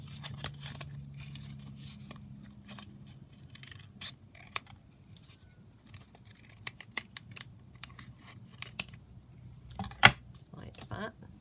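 Scissors trimming paper for a handmade lapbook folio, a series of sharp close snips and paper rustles scattered irregularly, with a brief voice at the start.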